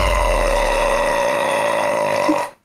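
A long, loud, sustained burp rumbles steadily for over two seconds before cutting off abruptly, heard alone with no talking.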